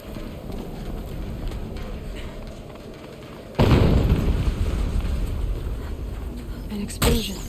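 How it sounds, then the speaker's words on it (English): An explosion in the video game Horizon Zero Dawn Remastered, a sudden loud boom that cuts in over quiet ambience and rumbles on, followed by a second sharp burst a few seconds later. "An explosion."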